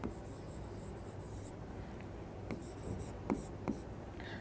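Writing on a board, a run of faint scratchy strokes and a few sharper taps against a steady room hiss.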